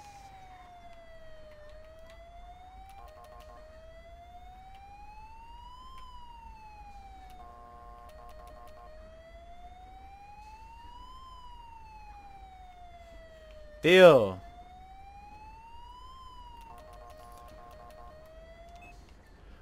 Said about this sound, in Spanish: Vamos a quitar la sirena porque es que lo que vamos a hacer es poner más nerviosos a los conductores